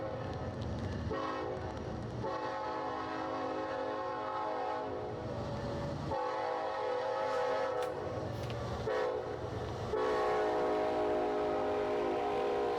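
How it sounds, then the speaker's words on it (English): A long loaded ethanol freight train of over 100 cars, led by Norfolk Southern and ex-CSX locomotives, rumbles past close by, wheels clattering steadily as the locomotive horn sounds in long blasts. "an ex-CSX leaser pulling a 100-plus car loaded ethanol train number 64A"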